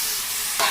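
Drumstick (moringa) pieces frying with chopped onions in a pan for tomato curry, a steady close sizzle that swells louder for a moment near the end as pieces are stirred or added.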